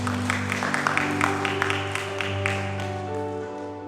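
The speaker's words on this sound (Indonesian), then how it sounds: "Tepuk tangan." A church congregation claps during a Sunday worship service, a soft, steady patter of hands set back in the room with sustained organ or keyboard tones underneath.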